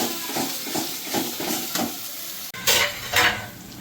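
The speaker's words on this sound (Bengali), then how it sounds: "পেঁয়াজ বাটাটা 2 মিনিট একটু ভেজে নিই ভালো করে" Onion paste fries in a pan while being stirred for crab curry, giving a steady sizzle broken by repeated scraping strokes and a louder burst of frying near the end, with no voices.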